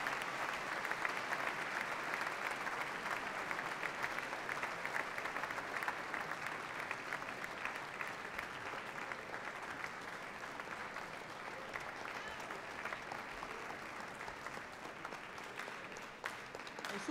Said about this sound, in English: You can keep applauding.